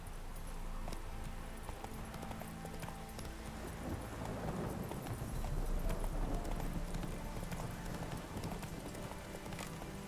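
A video-game horse named Roach gallops in a continuous rolling clatter of hooves under a steady ambient bed. The sound stays even and close the whole time.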